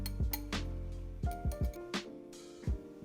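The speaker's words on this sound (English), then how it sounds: "we're gonna scramble those 2 eggs." A fork clinks rapidly against a bowl in a quick irregular rhythm, sharp close taps ringing briefly as eggs are whisked.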